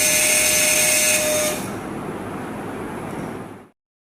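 A homemade mini drill press motor on a wooden base runs with a steady high whine and buzz, dropping in pitch partway through before cutting off abruptly.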